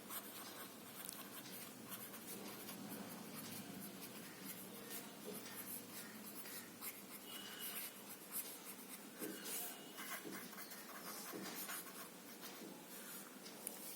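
A pencil scratches across paper in a continuous run of strokes while sketching a regular octagon, close and fairly quiet with no talking.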